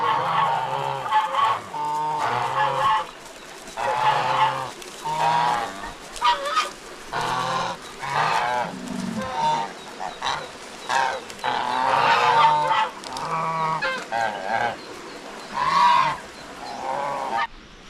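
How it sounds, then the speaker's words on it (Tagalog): A flock of geese honks continuously, overlapping calls rising and falling in loud, ragged bursts with no pauses. "Yung mga gansa natin, naligo sa sapa."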